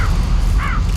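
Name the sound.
kites and crows cawing as they swoop on a thrown item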